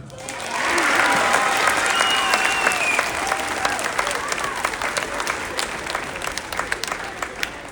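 Sustained audience applause at a school peer awards ceremony in Plentywood, congratulating a kindergartner; dense clapping swells in within the first second and continues steadily throughout, with some crowd murmur beneath.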